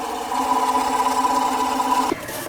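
A sewing machine stitches a quarter-inch seam joining fabric strips, a steady close mechanical whir running for about two seconds before it stops abruptly.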